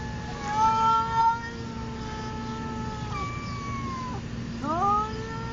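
A cat gives long, drawn-out meows and caterwauls, several wavering, wailing calls over about five seconds. The calls are close and clear over a steady low background hum.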